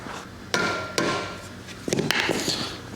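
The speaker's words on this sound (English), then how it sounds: "Now, we just drive the axle through." A mallet drives the axle through the wheel of a 1995 Harley-Davidson Evo Softail motorcycle, giving a few sharp, close knocks spaced unevenly over three seconds against a low background hum.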